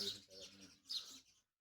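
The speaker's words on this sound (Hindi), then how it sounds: "बहुत ही सुंदर, सुबह सुबह पक्षियों की आवाज़ आती हुई।" Birds chirp in the early morning at an ashram near the Narmada river, two short bursts of bright, close tweeting over a faint low hum, ending abruptly in silence.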